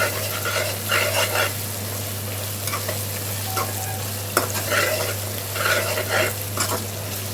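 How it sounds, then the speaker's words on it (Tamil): Coriander leaves sautéing in a pan for chicken biryani, a steady close frying hiss with bursts of spoon stirring and scraping at a loose, irregular pace, plus a constant low hum underneath. "கொத்தமல்லி சேர்த்து நல்லா வதக்கி விட்டுடலாம்"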